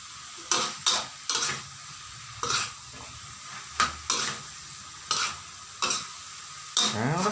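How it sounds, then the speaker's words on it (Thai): Thai curry ingredients for khua hok being stir-fried together in a pan: a regular series of sharp metal scraping and clanking strokes, roughly one per second, over a light sizzle, with no talking. "มาคั่วรวมกัน คั่วโฮกก็คือเอามารวมนะครับเอามารวมกันหมดนะ"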